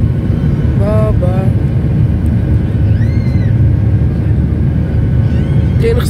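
A steady, loud low rumble and vibration fills an airplane cabin in flight on a route toward Nador, continuous throughout, with faint brief tones and voices now and then.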